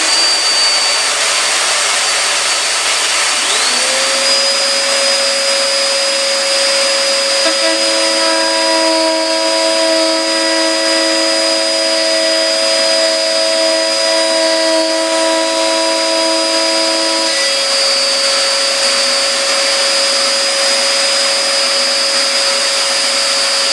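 A woodworking cutter machine spins up and runs steadily with a loud, sustained motor whine and tonal hum, its pitch rising at startup and a lower tone joining midway as it works through a workpiece, no voices present.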